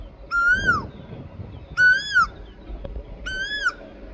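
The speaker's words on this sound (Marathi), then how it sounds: "कोकिळाचा आवाज येतोय." Three loud, clear rising whistled calls of an Asian koel repeat at roughly even intervals, each call ringing out against quiet background noise.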